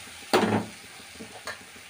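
Coriander powder and chili powder being stirred as they fry in a pan: a close scraping stir with soft sizzle, one distinct stroke followed by a fainter second one over low background hiss.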